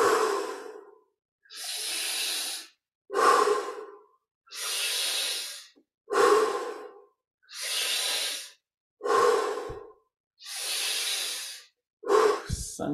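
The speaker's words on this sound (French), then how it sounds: "on va au maximum de l'inspire et de l'expire" Deep, slow breathing during a meditation exercise, with eight or nine long inhales and exhales alternating at a steady pace, close and clear, and short silences between breaths.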